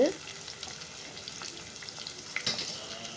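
Squid with curry leaves frying in a hot pan, a soft steady sizzle at close range with a brief clatter near the end and no talking.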